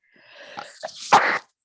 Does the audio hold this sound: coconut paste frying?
no